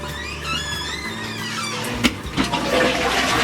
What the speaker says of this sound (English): do a test flush